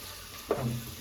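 A brief sizzle as onions and spices hit hot oil in a home kitchen pan, one short hissing burst rising suddenly and tapering off quickly, close and fairly quiet.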